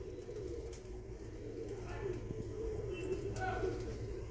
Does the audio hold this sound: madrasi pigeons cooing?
yes